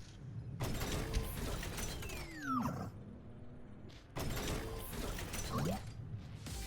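Mechanical whirring, ratcheting wind-up of the Bastion robot hero in Overwatch, two bursts of gear-like clicking and rising whines at moderate loudness, no talking.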